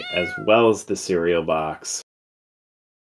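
A cat meow alert chime on a live stream, a short cartoonish meow right after a person speaks, then a brief pause.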